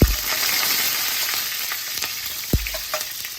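Garlic, lemongrass and chestnut sizzle and fry in a hot pan, with steady crackling broken by a few sharp scrapes and clatters of stirring.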